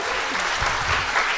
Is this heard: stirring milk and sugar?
no